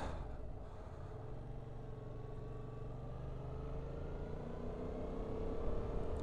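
A 2014 Yamaha MT-07 motorcycle being ridden, its engine a low, even drone that holds steady and rises slightly in pitch and loudness toward the end, with no voices.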